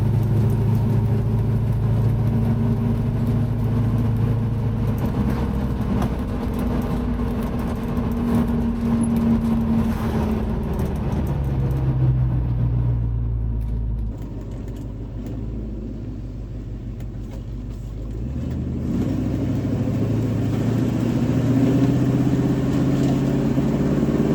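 A one-owner 1969 Ford Mustang with 59K original miles, driven for the first time in over 30 years, rumbles steadily down the road from inside the car, dipping briefly on a gear change before rising again.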